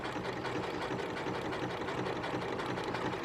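Sewing machine stitching a scalloped hem on upcycled jeans with tearaway stabilizer, a steady, even mechanical whir with rapid needle chatter running continuously at close range.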